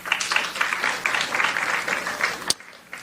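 Brief burst of audience clapping in a meeting hall, a dense patter of hands lasting a few seconds before cutting off abruptly, with a sharp clap at the end.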